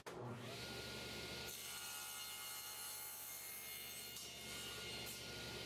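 A crosscut hand saw cutting through a wood block, giving continuous rasping strokes, close and fairly steady, with the tone shifting slightly between strokes and no talk over it.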